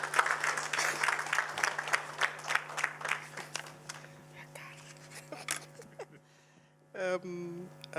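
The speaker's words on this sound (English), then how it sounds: "Can we give her a huge round of applause?" Audience applause at a science academy launch as an official is invited up, scattered clapping that tapers off, then a low hum and a short burst of voice near the end.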